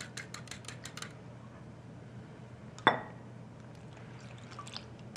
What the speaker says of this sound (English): I'm going to give this egg another little whisk here. Add it to my milk. I'll give that a little stir.